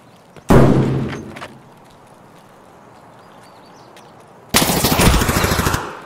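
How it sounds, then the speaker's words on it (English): Gunfire in the video game Escape from Tarkov: a sharp, loud shot that fades, then a quieter stretch, then a dense rapid burst of automatic fire lasting over a second. "So we have some shots going."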